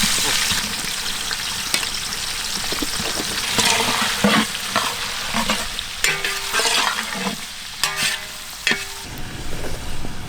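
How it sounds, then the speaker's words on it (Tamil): Sliced onions fry and sizzle in hot oil for mutton leg biryani, a close bubbling hiss with stirring scrapes and a few clinks throughout. "எண்ணெயில் வெங்காயம் நல்ல வசங்கணுமாக்கா."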